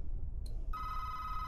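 A telephone rings with a steady electronic tone, starting after a brief chirp and continuing clearly over low background hum.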